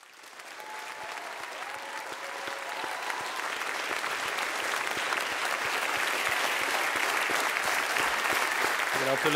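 An audience at a festival award show claps, the applause swelling from moderate to a full, dense, sustained ovation that fills the room without pause.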